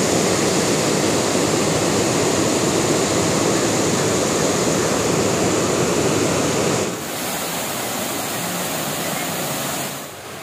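Waterfall at the Bhanwar Mata temple, a loud, steady broadband roar of falling water that continues throughout and drops somewhat in level near the end.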